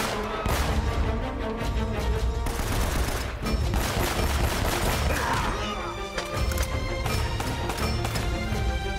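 Dense, continuous gunfire from the video game Uncharted: Drake's Fortune, rapid loud bursts and impacts layered over a thick game soundscape throughout, with no talk.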